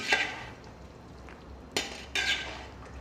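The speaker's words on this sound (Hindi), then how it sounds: "अब इसे बढ़िया हम ऐसे चला रहे हैं, अच्छा मिक्स कर लीजिए" Marinated mutton stirred in a pot with a metal spoon for a Beliram-style curry, giving a soft sizzling wash broken by a few sharp scraping clinks against the pot, close and without talk.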